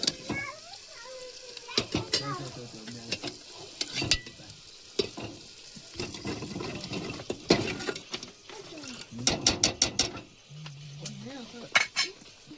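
Freshwater crabs caught from a stream go into a pan of frying mix: a steady sizzle runs under repeated clatters and scrapes of stirring, with sharp clicks of the utensil against the pan.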